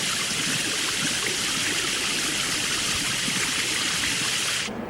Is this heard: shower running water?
yes